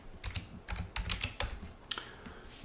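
Quick, irregular clicks of a computer keyboard as a terminal command is typed on Manjaro Linux, about a dozen close, crisp keystrokes in short bursts with no talking.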